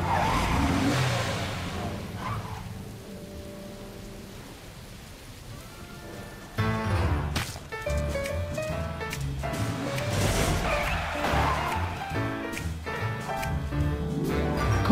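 A car drives with tires skidding and squealing, heard beneath a busy music score with a steady, dense mix throughout.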